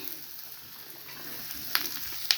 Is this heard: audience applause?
no